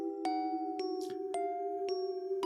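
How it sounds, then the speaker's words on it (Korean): A doorbell rings in a home as police arrive at the door, heard as a few clear, evenly spaced chimes over a steady tonal hum. "초인종 소리가 들려왔습니다."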